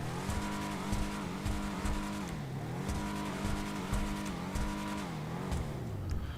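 Deviant car in GTA Online Arena War, its engine droning and revving with rising and falling pitch and bursts of throttle, steady and fairly loud throughout with no speech.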